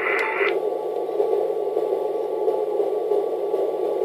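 A Yaesu FT-817ND radio with an installed 500 Hz CW filter gives a steady hiss of band noise and static, opening with a short tone, continuous with no voices.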